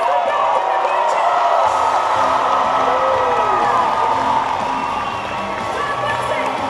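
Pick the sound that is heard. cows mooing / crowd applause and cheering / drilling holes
crowd applause and cheering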